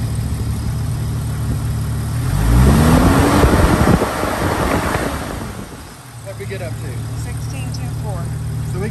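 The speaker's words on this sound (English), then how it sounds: "I'm going to rev it up for you." A car engine idles steadily, then revs up loudly around the middle before settling back to a smooth idle, recorded close by at a voltage regulator installation, with people speaking over it.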